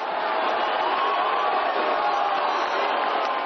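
Dense, continuous roar of a football stadium crowd erupting after a late goal, loud and sustained throughout with no breaks.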